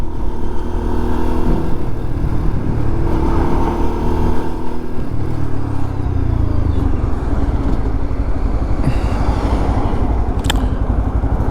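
A Lexmoto LXR 125cc motorcycle with an aftermarket exhaust runs steadily and loudly throughout while riding, with a throaty low rumble and some rises in revs, close to the listener.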